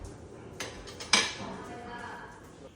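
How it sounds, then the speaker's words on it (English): A spoon scrapes and clinks against a metal pan while a cream sauce with bacon is stirred, a few light knocks followed by one sharper clang, then a soft simmering hiss. "just mix that up a bit and then let it simmer without the lid on so that the cream can thicken"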